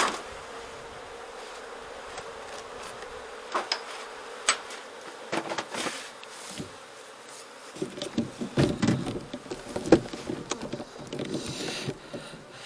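Honeybees buzz around a hive being topped up with syrup during winter preparation, a faint steady hum outdoors, punctuated by scattered soft clicks and knocks of handling.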